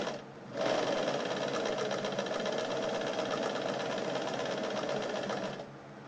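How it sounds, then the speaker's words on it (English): A Bernina 817 sewing machine runs a straight stitch at normal speed on its two-speed motor, a steady rapid mechanical whir and clatter that starts abruptly and holds evenly for several seconds before stopping. "I'm going to start out with the straight stitching. Bring that down, and I'm on normal motor speed."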